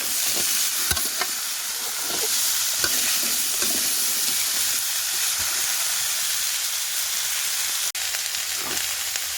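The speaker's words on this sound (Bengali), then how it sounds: "এখন একটু এই কড়াইটা কষিয়ে নেবে সবজিটা ভালো" Vegetables stir-fried in a wok (kadai) in a home kitchen: a continuous close sizzle and hiss, broken by scraping and clattering stirs, with no talk.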